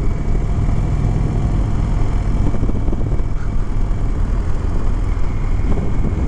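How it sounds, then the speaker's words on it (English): A 2021 Indian Chief Dark Horse, an 800-pound cruiser motorcycle, on a test ride, its engine a loud steady low rumble mixed with broadband wind roar that holds constant throughout. "Really doesn't feel like you're driving an 800-pound bike."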